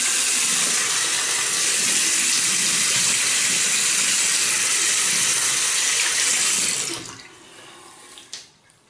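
Tap water runs loudly and steadily into a sink while a face is rinsed during a traditional wet shave, a close broadband hiss lasting about seven seconds before cutting off, followed by faint splashes.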